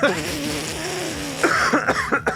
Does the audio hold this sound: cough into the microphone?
yes